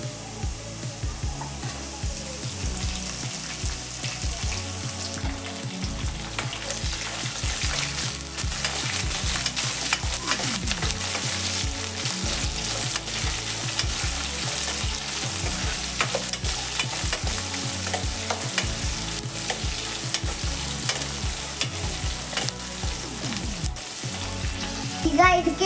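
Potatoes and onions frying in a pan for tomato rice, a steady soft sizzle broken by repeated scraping stirs, close and moderately quiet throughout with no talk.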